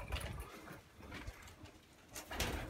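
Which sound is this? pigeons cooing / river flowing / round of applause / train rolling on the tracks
pigeons cooing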